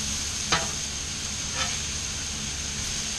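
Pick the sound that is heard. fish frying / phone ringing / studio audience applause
fish frying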